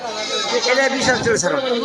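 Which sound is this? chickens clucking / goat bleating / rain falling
goat bleating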